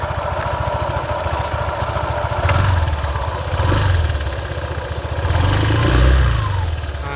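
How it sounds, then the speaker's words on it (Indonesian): Honda PCX 155 scooter engine, unserviced after about 11,000 km and sounding slightly rough, idling close by and revving up in a few short swells. "Untuk suara mesinnya agak sedikit kasar karena belum diservis"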